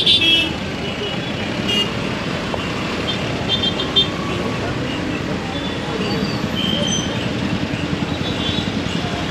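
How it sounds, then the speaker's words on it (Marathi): Busy road traffic at a jam near Panvel, with a steady wash of engine and tyre noise, a brief horn toot at the start and faint horn tones scattered through, heard from close by without a pause. "त्यामुळे इथे ट्रॅफिक होतं."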